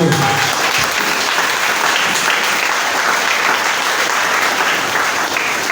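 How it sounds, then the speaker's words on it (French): Church congregation applauding loudly and steadily throughout, a dense sustained wash of clapping filling the room with no break. "Est-ce qu'on peut acclamer pour eux?"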